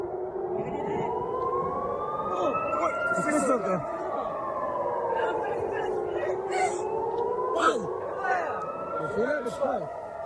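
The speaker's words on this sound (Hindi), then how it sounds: "सायरन की आवाजें सुनाई दे रही होंगी आपको।" Air raid sirens wail, rising and falling continuously, loud and sustained, layered over one another, with voices talking underneath.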